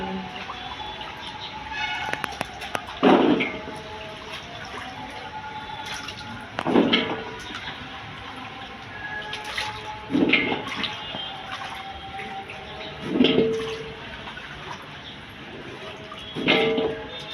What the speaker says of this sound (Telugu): నేను మళ్ళీ ఫ్రెష్గా నీళ్ళు పోసుకొని అయితే కడుక్కుంటున్నాను